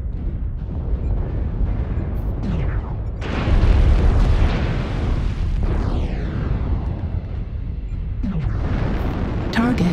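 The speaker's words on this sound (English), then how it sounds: "Artillery strike activated. Warning, incoming missile." Artillery strike explosions in MechWarrior Online on the Crimson Strait map: a run of heavy, rumbling blasts, loudest around the middle, mixed with whooshing sweeps and sharp bursts.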